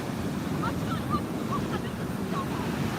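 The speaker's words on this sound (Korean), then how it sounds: "아 파도 좋지요" Ocean waves wash steadily onto a beach in a continuous broad roar mixed with wind buffeting the microphone, with a few faint high calls drifting over the surf.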